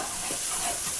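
Mutton masala roasting in ghee in a pan gives off a steady bright sizzle and hiss, continuous and close, with no voices.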